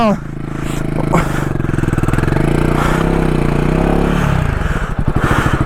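A Royal Enfield Himalayan 450 motorcycle idles and revs steadily up close in slippery mud off-road, its low throaty rumble rising and falling, with some scraping and people talking over it.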